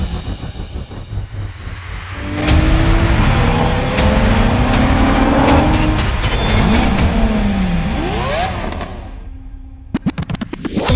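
An Audi RS5 with a 2.9 liter twin-turbo V6 revs loudly and accelerates hard, its engine note climbing through gears before quick sharp pops near the end.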